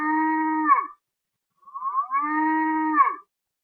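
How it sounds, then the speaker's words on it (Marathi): A calf lets out two long, loud moos, each a sustained bellow ending in a falling tail, separated by a brief pause with no other sound around them. "आणि मग हे वासरू हंबरून आपल्या आईला आवाज देऊ लागलं."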